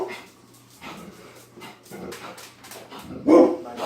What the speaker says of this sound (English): My dogs are being noisy.